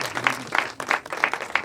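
Audience applause at a ghazal cover launch event, a burst of clapping that pulses unevenly and fills the room, with a faint voice underneath.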